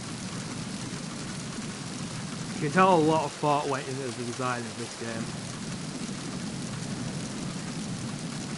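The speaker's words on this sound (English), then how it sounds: "dripping water outside, and it's like a complete downpour" A steady downpour of rain in the video game Metal Gear Solid 2, with wind, forms a constant hiss throughout while someone talks briefly over it in the middle.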